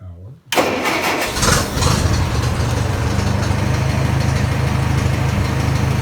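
Massey Ferguson 65 tractor engine turning over and firing up right away, then settling into a loud, steady idle close by.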